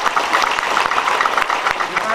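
A congregation at a Catholic Marian congress in 2015 breaks into brief, dense applause, a steady patter of many hands clapping at moderate volume.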